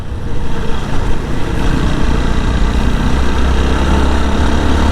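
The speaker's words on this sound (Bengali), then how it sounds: "দুইটা বাইক কর্নারিং করতে গিয়ে একদম সাইডে চলে গেছে" Several motorbikes ride a winding hill road in Bandarban, engines droning steadily and loudly throughout with no pauses, a dense low rumble of multiple machines.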